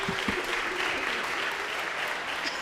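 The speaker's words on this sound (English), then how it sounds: "she deserves a hand clap." Audience applause at a brass band concert in Saint James Episcopal church, Lancaster, a dense, even burst of many hands clapping that holds steady from start to finish.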